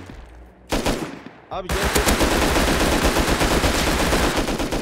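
Incendiary rounds fire in the video game Rust. Two short bursts come first, then a long, loud, rapid stream of close automatic gunfire, with a brief spoken remark in between.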